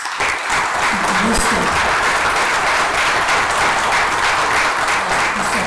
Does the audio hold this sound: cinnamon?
no